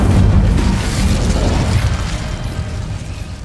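Incendio fire spell cast in Hogwarts Legacy, heard as a loud, sustained rumbling whoosh of flame with a booming low end that slowly fades over a few seconds, no talk.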